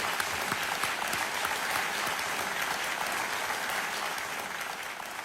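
Studio audience of a television quiz show applauding a contestant, a dense, continuous wash of clapping at even volume throughout.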